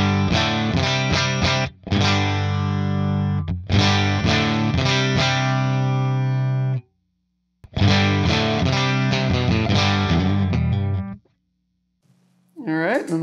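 Electric guitar riffs through a UAFX Woodrow 55 amp pedal set to a Marshall 4x12 cabinet with Celestion V30 speakers and a 421 dynamic mic, thick, chunky and bright; phrases played in bursts with short gaps between them.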